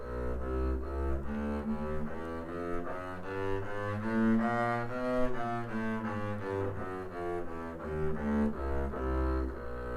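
A bowed double bass plays a B chromatic scale, climbing and descending note by note, each pitch sustained evenly at a moderate, unhurried pace.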